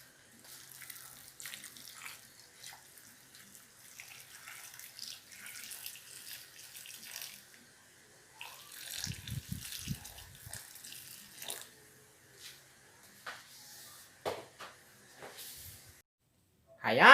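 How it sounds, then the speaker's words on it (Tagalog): Hot water is poured into a pan of sweetened coconut while cooking Linokay, a faint intermittent trickle and splash with brief louder bursts and a sizzle near the end. "Lagyan natin ng mainit na tubig para madaling matunaw."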